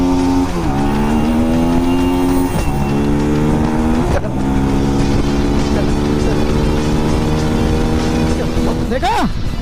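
A Bajaj Pulsar NS 200 BS3 motorcycle revs hard in first gear toward 11,000 RPM. The loud, close engine note climbs repeatedly, with sharp drops between pulls, and someone talks over the roar.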